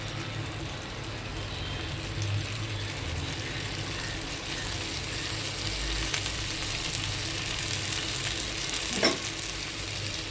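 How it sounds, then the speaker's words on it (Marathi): Ravas fish fries in oil in a pan over low heat, giving a steady, even sizzle and crackle that runs the whole time with no talking. "आता मी अजून थोडंसं तेल टाकते चारही बाजूने थोडंसं तेल टाकून घेते मी म्हणजे छान अजून फ्राय होईल"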